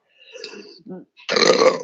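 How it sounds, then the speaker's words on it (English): A person burps during a relaxed tapping and breathing session, with a couple of short soft throat sounds first and then one louder, rougher belch close up at the end. "the burps have started now"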